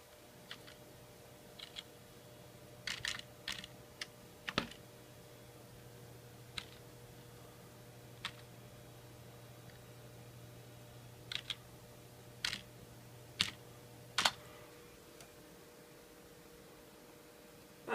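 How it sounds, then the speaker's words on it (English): Scattered, fairly faint keystrokes on a Dell USB keyboard, some single and some in quick clusters, tapping over a steady electrical hum in a quiet room. "That Dell USB keyboard is going to be used now. So I'm gonna select that one, and I'm gonna type."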